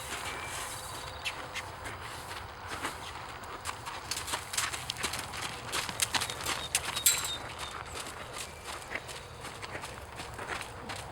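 Hooves thud steadily on soft ground as a green, newly ridden horse moves at a quick, rhythmic pace, moderately close with faint outdoor background.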